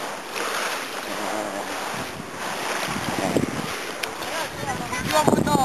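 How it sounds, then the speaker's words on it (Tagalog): Waves washing the shore at Cebu Beach, a continuous wash of surf mixed with wind buffeting on the microphone, with people talking over it. "Nandito kami ngayon sa Cebu Beach"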